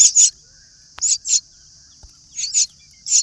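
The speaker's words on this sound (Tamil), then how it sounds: "மைனா குருவி தான் இருக்கும் பேர் நினைக்கிறேன்" Myna chicks calling repeatedly in short, bright chirping bursts, close by and fairly loud, with a steady high faint hiss between calls and brief clicks.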